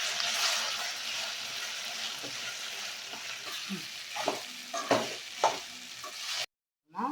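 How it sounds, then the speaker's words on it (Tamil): Steady sizzling of okra frying in oil, with occasional stirring clicks and scrapes, then a brief cut to silence near the end. "எண்ணெயிலேயே அப்படி ஃப்ரை பண்ணுங்க."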